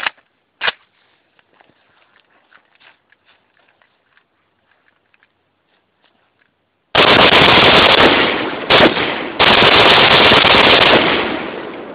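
A Romanian AES-10B rifle being bump fired: quiet handling clicks, then two long, loud, rapid-fire bursts close by, separated by a brief pause.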